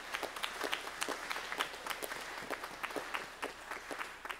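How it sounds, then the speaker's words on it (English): The audience at a high school spring concert gives a round of applause, a moderately loud run of individual claps with a clear, uneven rhythm, some hands standing out close by. "Let's give her one more round of applause."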